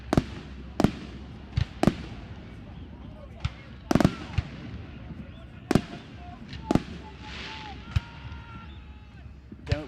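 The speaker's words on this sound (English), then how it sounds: "And we have fireworks as well. Don't know why they're going off." Fireworks burst in sharp, irregular bangs around a rugby league stadium during a semi-final, some cracks close and loud, with a crowd murmur and a commentator's voice running beneath them.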